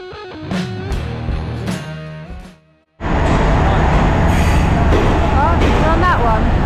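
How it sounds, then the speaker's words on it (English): Busy Bangkok train station ambience: a loud, steady roar of a passing train fills the second half after a brief drop, with earlier rumbling, horn-like tones and voices in the crowd. "we're at the train station"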